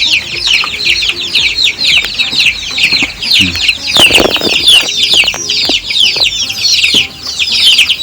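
Young chicks under a month old in a cage give constant high peeping and clucking, with a brief burst of wing flapping or scuffling in the middle and low sounds of people in the background.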